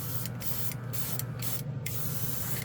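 An airbrush sprays Street Blisters hobby paint in several short bursts over a steady compressor hum, each burst a close hiss with brief pauses between, no voices.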